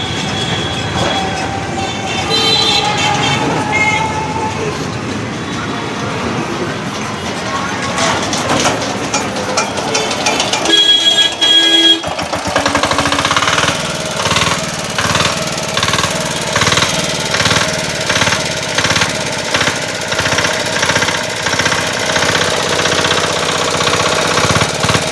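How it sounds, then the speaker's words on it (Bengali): A Z170 diesel engine turning over and catching, then settling into a loud, steady running clatter with a rapid rhythmic knock close by, after a stretch of mixed machinery noise. "এবার আমাদের ইঞ্জিন স্টার্ট হয়ে যাবে।"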